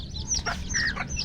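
Hens clucking in a free-range pen, several short rising calls in quick succession, close and clear over a low background rumble.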